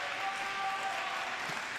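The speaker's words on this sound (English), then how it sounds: "Boys always cheer a little bit louder when the judges agree" Boys' swim and dive team cheering and applauding at a meet after the judges' scores agree on a dive, with a sustained, dense crowd roar and some voices mixed in.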